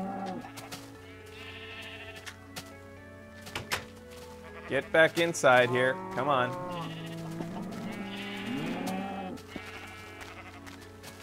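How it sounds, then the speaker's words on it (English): Several Minecraft sheep bleat in a burst of overlapping, wavering cries at mid-level, with a few quieter bleats afterward, while people talk over and around them. "It's a lot of sheep, too."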